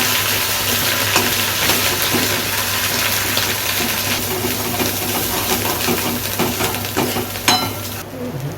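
Malvani masala paste sizzles and fries steadily in hot oil, a loud, close, continuous crackle with occasional stirring scrapes and no voices.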